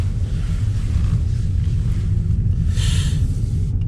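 Audi A6 40 TFSI gasoline sedan, nearly new, pulling away and cruising, heard from inside as a steady low rumble with road and wind noise, quiet and continuous, with a brief hiss partway through.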